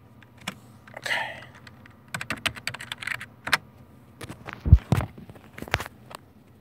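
A password is typed on the keyboard of a Dell Dimension 4600 desktop running Windows XP, with irregular bursts of crisp key clicks and a few heavier taps in a quiet room.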